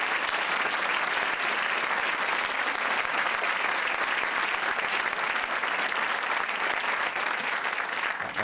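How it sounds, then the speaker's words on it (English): An audience at a Family and Medical Leave Act anniversary event gives a sustained, dense round of applause, steady and full from start to finish with no talking over it. "Give yourselves a round of applause for all the great work you do."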